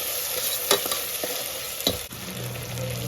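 Chicken masala frying in a pan at a dhaba, a dense continuous sizzle with a couple of sharp spoon scrapes breaking through, close and loud with no talking.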